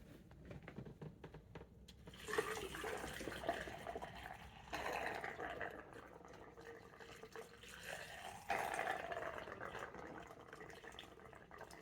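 Washer fluid pours into the reservoir of a 2016-2022 Mercedes-Benz GLC, a soft continuous gurgling fill that swells and fades in several surges, fairly faint and close.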